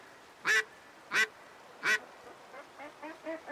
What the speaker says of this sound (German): So, es geht weiter mit den Enten.